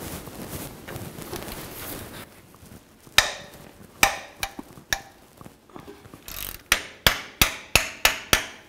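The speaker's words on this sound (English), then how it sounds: "Now I'll use a 13mm socket and take these two bolts out." Socket wrench work on the starter bolts of a 2000-06 GMC Yukon: a 13mm socket gives sharp metallic clicks and taps, first scattered, then a fast even run of about seven ratchet clicks, close by over faint background noise.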